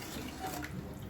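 Water poured into a cooking pot for rice makes a soft, continuous splashing rush at moderate distance, fairly faint and steady, with no talking.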